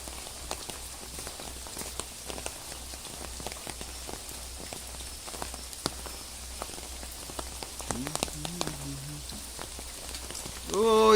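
Rain falling in a village yard, a constant dense patter with sharp drip clicks over a low hum, a faint voice-like sound briefly near the end.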